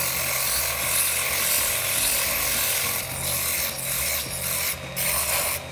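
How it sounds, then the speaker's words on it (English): Sandpaper rubs steadily over a wooden sailboat model, giving a close, continuous scratchy hiss with a few brief pauses and strokes near the end. "Now it's time to clean surface with sandpaper."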